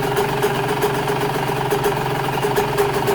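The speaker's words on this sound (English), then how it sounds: "I'm just going to let it idle for a second here." A cold motorcycle engine idles with the idle set very low, a steady, loud, close rumble with a slightly uneven beat and no talking.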